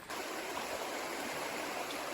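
Dismal Creek rushes steadily along a wooded Appalachian Trail stretch, a continuous broad watery roar close by and unbroken for the whole moment, with no voices over it.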